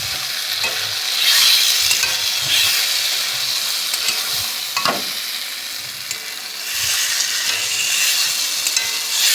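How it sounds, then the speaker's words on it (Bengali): Fried potatoes stirred with spice paste in a hot pan give a loud, steady hissing sizzle, with scraping stir strokes rising and falling throughout and no speech. "এতে দিয়ে দেবো এবার ভেজে রাখা আলুগুলো দিয়ে মশলাটার সঙ্গে ভালো করে কষাতে হবে।"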